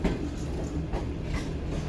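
Train rolling out of Cadet College Petaro railway station on a safari journey toward Mohenjo-daro, a steady low rumble of carriages with faint creaks and knocks, close and continuous.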